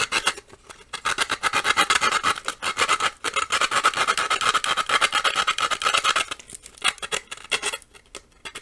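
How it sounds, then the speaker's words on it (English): Regular sandpaper rubs back and forth across a metal workpiece in a workshop, producing close, loud rasping strokes in a quick steady rhythm with brief pauses between bursts. "this regular old sandpaper, can do this good of a job of sanding off metal like this"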